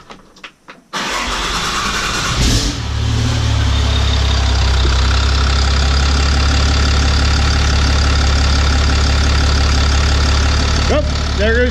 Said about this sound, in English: Hear the motor change tone?